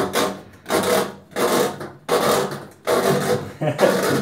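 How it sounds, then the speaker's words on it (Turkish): A washing machine drain hose being worked free from a drain pipe, giving close, loud, rhythmic rubbing and scraping pulls that repeat about once every half second, with a voice heard faintly alongside. "Çamaşır makinemizin hortumunu sökelim."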